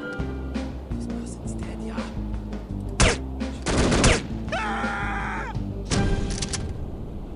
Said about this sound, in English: I hope nobody heard all those AK bullets